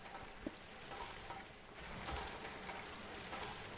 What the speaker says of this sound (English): Now it's raining in my base.